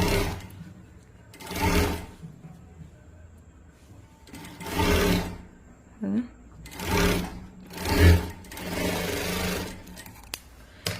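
A sewing machine stitches a sleeve in five short, whirring runs of about a second each, close by and moderately loud, with quiet gaps and faint talk between them.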